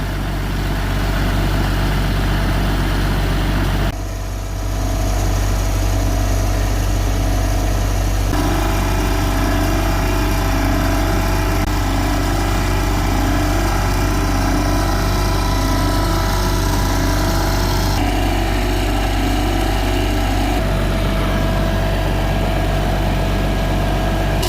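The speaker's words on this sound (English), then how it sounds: "Just running the steering cylinders." A forwarder's engine runs loud and close at a steady idle while its hydraulic steering cylinders are cycled, with a shifting whine and load changes over the continuous rumble.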